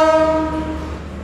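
The horn of the Probowangi train, hauled by a rare slant-nosed CC 201 locomotive, sounds at Surabaya Gubeng station as one loud, sustained, rich-toned blast that fades slightly over its length.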